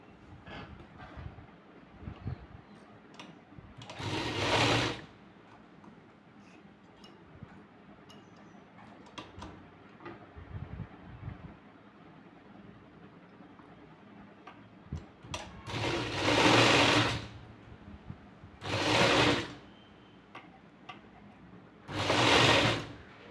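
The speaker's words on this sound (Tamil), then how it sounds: "இப்போ இதுக்கு மேலே தையல் போட்டுக்கலாம்" A sewing machine stitches along the neckline of a blouse in short loud bursts, three clear runs of rapid needle clatter separated by quiet pauses with faint handling ticks, close to the listener.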